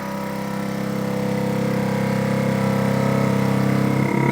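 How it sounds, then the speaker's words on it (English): A vacuum sealer on its auto vacuum-and-seal cycle hums with a steady motorized drone that grows a little louder, then shifts as the pump finishes. The sound is close and alone, with no talking. "I'm going to hit my auto vac and seal button to start it"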